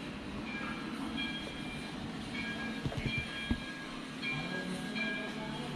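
A train rumbles past nearby with steady mechanical noise, faint squeals and a few clanking thumps, fairly quiet overall.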